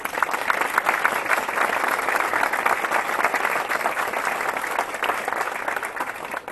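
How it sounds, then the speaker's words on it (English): Audience applause at a groundbreaking ceremony in Laurel Hills, Fairfax County, a steady outdoor-sounding wash of many hands clapping that holds at an even level throughout, with no talk over it. "let's give her a nice round of applause."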